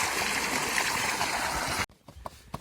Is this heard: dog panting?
no